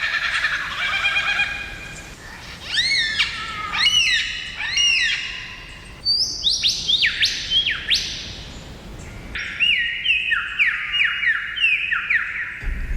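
A superb lyrebird sings and mimics other birds at close range: a loud, varied run of ringing whistles, rapid trills and sweeping descending phrases, with short pauses between bursts and no talk.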